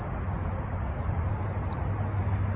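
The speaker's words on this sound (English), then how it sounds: "It's called a top dead center whistle." A top dead center whistle screwed into the number one cylinder of a 1954 Plymouth Belvedere gives a steady, high, thin whistle that holds for almost two seconds and then cuts off, over a low engine rumble.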